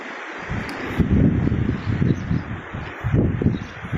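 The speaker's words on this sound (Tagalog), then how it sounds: "malakas na naman hangin" Strong wind gusting outdoors with goats nearby, a loud continuous low rumble of buffeting against the microphone, swelling and easing in waves with leaves rustling, and no one speaking.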